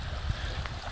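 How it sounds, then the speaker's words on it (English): Rushing water from a small creek swollen into a full river on rural property, a steady low churning wash with soft splashes, continuous and fairly close, no voices. "I will end this vlog with the soothing sounds of the rushing water on our property."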